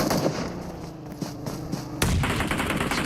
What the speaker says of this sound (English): Nade after nade.